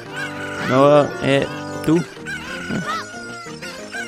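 Cuccos cluck and squawk in Zelda: Ocarina of Time 3D, a run of bright, close fowl calls under a man's speech.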